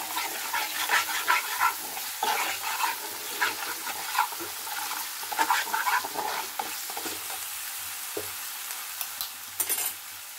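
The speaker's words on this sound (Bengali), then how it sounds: "এবার আরও সুন্দরভাবে আমাকে কষিয়ে নিতে হবে।" Masala and yogurt fried and stirred in a pan over a low gas flame: a steady sizzle broken by repeated scraping stir strokes, close and fairly loud, with no voices.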